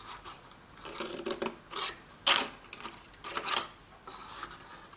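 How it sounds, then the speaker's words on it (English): Scissors snipping small tabs off a piece of card, several short close crisp cuts in an uneven rhythm with quiet pauses between. "I don't need those two little tabs there, so we can cut those off"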